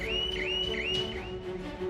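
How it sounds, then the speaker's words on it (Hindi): An anti-theft shop alarm wails loudly and continuously, its electronic tone sweeping up and down in a repeating siren pattern over a steady drone, with no voices. "जिस शॉप पे लग जाए वहां कोई चोरी का अटेम्प्ट होगा तो अलार्म जोर से बजने लगेगा।"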